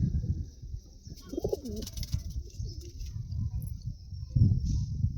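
A male and female pigeon pair of a fancy breed give low, throaty cooing calls close by, with repeated soft coos over faint background hiss and a louder burst near the end.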